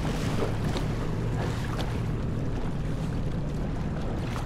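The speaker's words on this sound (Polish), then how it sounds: "Dzisiaj chcę zrobić recenzję tego oto skutera wodnego. Jest to moja Yamaha FX SHO" A Yamaha FX SHO jet ski runs on open water, with a steady, dense roar of engine, splashing spray and heavy wind buffeting the microphone, continuous and close throughout.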